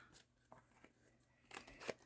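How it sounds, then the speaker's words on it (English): Scissors cut through paper in a few quiet, crisp snips close by, with short gaps between the cuts. "Or just cut it with your scissors if you don't have a corner rounder."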